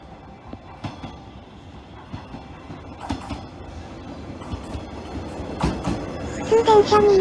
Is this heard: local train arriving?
yes